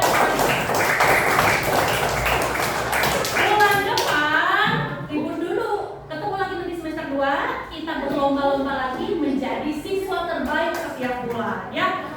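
A classroom of children claps hands together for a classmate during a teaching session, a burst of dense clapping over the first few seconds that gives way to a teacher speaking.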